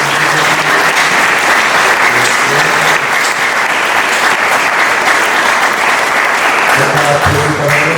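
A church congregation applauds to welcome visiting students, loud, dense clapping that carries on without a break for eight seconds.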